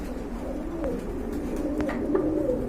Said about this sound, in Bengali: এক সময়কার অনেকের পছন্দের কবুতর নান কবুতর ব্ল্যাক নান